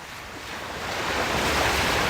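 Sea waves wash against the shore near moored boats in Kuwait City, a steady surf hiss mixed with wind that swells gradually louder, with no one speaking.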